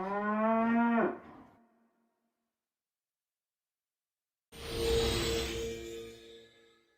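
A cartoon cow moos in a short, loud, falling call, then after a silent gap a second, longer and noisier moo follows close up, with no talking.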